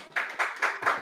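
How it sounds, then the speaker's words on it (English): Congregation at a Feast of Tabernacles high holy day gathering clapping in four loud, evenly spaced bursts close by, with no talking. "Go ahead, clap it up."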